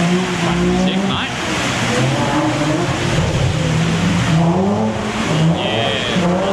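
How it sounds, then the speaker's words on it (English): Nissan Laurel drift car roaring loud and continuous as it comes in on a wet track at a drift day, the engine note rising and falling with revs amid tyre noise, while people talk over it. "Here's Benny and his Laurel coming in. Sounds unbelievable"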